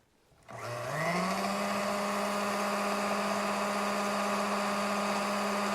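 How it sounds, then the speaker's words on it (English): A vintage Sunbeam grinder attachment spins up and grinds coffee beans, a steady motor whine that ramps up quickly then holds a constant pitch, close and continuous. "Let's see if we can get it to grind a little finer."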